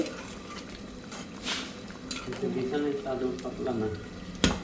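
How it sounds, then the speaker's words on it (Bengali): A pot of ash gourd cooking with hilsa fish is stirred, with soft scraping and clinks of a utensil against the pot plus a sharper knock near the end, while someone talks over it. "চাল কুমড়ি দিয়ে ইলিশ মাছ দিয়ে রান্না করতেছি"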